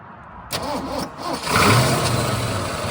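A 1970 Ford Mustang Boss 429 V8 engine cranks briefly, catches and fires up, then settles into a loud, lumpy idle close by.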